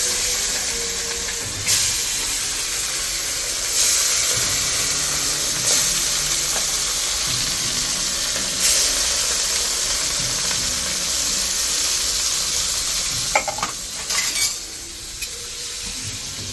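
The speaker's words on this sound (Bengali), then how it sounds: "এখন তেলটা গরম হয়ে গেছে, এখানে মাছগুলি দিয়ে দিলাম।" Pieces of rohu and shing fish fry in hot oil, giving a steady, loud sizzling hiss throughout with occasional brief clinks and stirring knocks.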